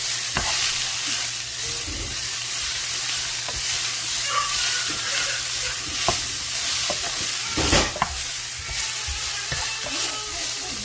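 Greens wilting in olive oil in a pan, sizzling and frying steadily throughout with occasional stirring scrapes and a louder clatter near the middle, close by with no talking.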